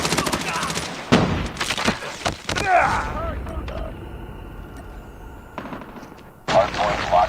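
Video game gunfire in a ranked online hardpoint match: rapid bursts of automatic shots and sharp cracks up front, then a quieter lull with distant shooting before another loud burst, with voices talking underneath.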